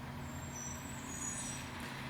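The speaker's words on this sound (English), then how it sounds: "So here comes the garbage truck." A garbage truck passes with a low rumbling diesel engine and a high hissing squeal of air brakes, steady and moderately distant with no talk.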